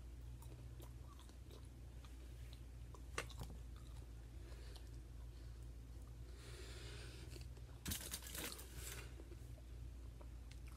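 Crunchy Toblerone chocolate bar being chewed close up, a steady run of soft bites and crunches with a denser burst of crunching near the end, no talking.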